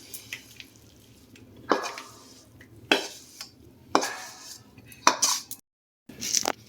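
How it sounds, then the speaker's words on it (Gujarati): Thick sweet sukhdi being spread from a pan into a plate with a metal spatula, giving several separate scraping clinks and knocks of metal on metal at close range, with short quiet gaps between them. "જો આવી રીતના તાવીથાની મદદથી ઢાળી દઈશું થાળીમાં."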